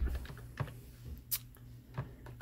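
Sparse keystrokes on a computer keyboard, a few soft clicks spaced irregularly with one sharper tap, close and quiet, with no talk.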